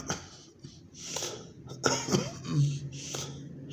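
Several harsh coughs from a person still recovering from a sinus infection, close and fairly loud, coming in short bursts with breaths between them and no speech.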